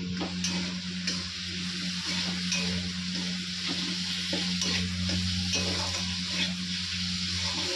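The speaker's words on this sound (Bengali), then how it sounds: "মশলাটা ভালো করে কষিয়ে নেবো।" Steady, loud sizzling of a masala paste of ground coriander, cumin, dried red chilli, onion, ginger and garlic frying in a pan, with a constant hum underneath and no talking.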